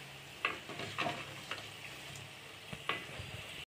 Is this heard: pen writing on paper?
no